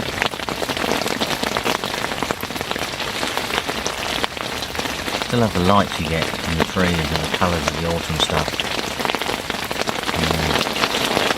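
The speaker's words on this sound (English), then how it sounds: "Well, here comes the rain again." Steady rain falls outdoors among autumn trees, a constant dense patter across the whole stretch, with someone talking briefly over it midway.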